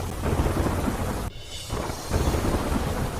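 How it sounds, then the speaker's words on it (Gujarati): Steady heavy rain pours in Porbandar while thunder rumbles close and loud, a brief lull breaking the downpour before it swells again; no voices. "પોરબંદરમાં 5 દિવસના વિરામ બાદ ફરી વરસાદ."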